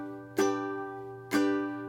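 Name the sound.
ukulele chords played with down strums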